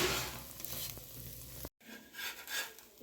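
An egg dosa sizzles as it fries in a pan, a close crackling hiss with some scraping that cuts out briefly and then resumes more softly.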